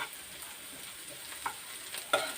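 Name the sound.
bitter gourd frying in a pan on high heat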